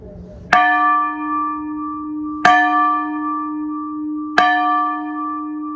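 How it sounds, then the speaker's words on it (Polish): A church bell in Kraków strikes three times at steady intervals, each loud clang ringing out with a long humming decay. "posłuchajcie, jak ten dzwon brzmi"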